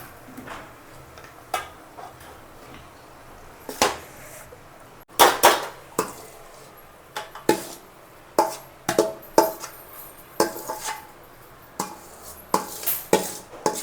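Spoon scraping and clinking against a pan while boiled, mashed potato samosa filling with red chilli is stirred, irregular close metallic taps and scrapes in bursts with quiet gaps.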